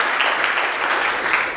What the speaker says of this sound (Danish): Så vi må godt klappe af nogle af de andre